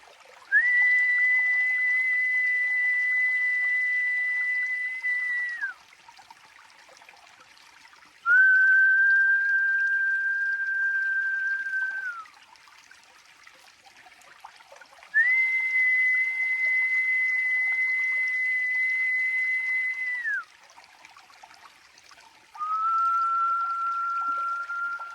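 Four long, steady whistle tones alternating between a higher and lower pitch, each held several seconds with quiet pauses in between, a ceremonial call to the four directions.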